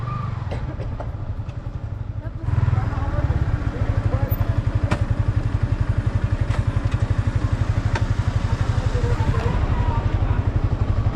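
Motorcycle engines, including a Yamaha MT-09, chug loudly and close in a steady rapid pulse, one revving up after a brief lower idle, with faint voices underneath.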